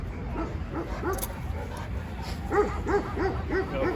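Faint, distant dogs yip and bark in a quick repeated series over a steady background hum in Maçka Park, growing a little more frequent toward the end.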